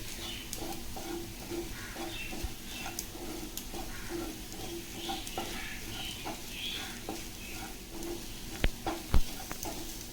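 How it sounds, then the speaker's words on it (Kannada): Scrambled egg frying in oil in a pan for egg fried rice: a steady, close sizzle with soft rhythmic scraping from continuous stirring, plus a couple of sharper taps of the utensil near the end. "ಇದನ್ನು ಸ್ವಲ್ಪ ಫ್ರೈ ಮಾಡ್ಕೊಳ್ಳಿ ಚೆನ್ನಾಗಿ ಚೆನ್ನಾಗಿ ತಿರುಗಿಸ್ತಾ ಇರಿ"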